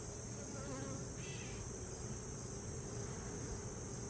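Honey bees buzz steadily around an open hive during a queen change in fall, a continuous droning hum at close range with no talk over it.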